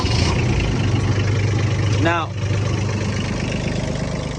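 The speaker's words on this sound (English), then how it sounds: "Turn the tractor back on there." Tractor engine idling, a steady low mechanical rumble that runs throughout, with someone speaking briefly over it about halfway through.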